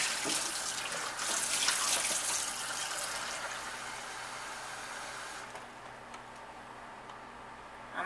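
One cup of water pours and splashes steadily into a container for making oobleck for a few seconds, then the flow stops, leaving a quiet room with faint small sounds.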